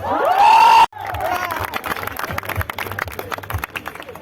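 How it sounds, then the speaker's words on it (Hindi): A live festival audience cheers loudly with whoops and shouting for about a second. The sound cuts off sharply and gives way to a restless crowd murmur with scattered claps. "जोरदार ताली हो जाए"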